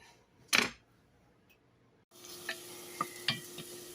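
Thinly cut onions drop into a pot and start a soft, steady sizzle, with a few light clinks of stirring over it; no talking.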